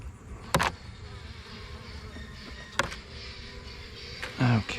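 Honeybees humming during a fall inspection of a Layens hive: a steady low buzz throughout, with a few sharp knocks or clicks and a louder close buzz near the end.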